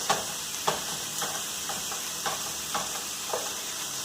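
Ground beef browning in a pan for a tater tot casserole, a steady sizzle with several sharp spatula scrapes and taps as the meat is broken up, close and alone.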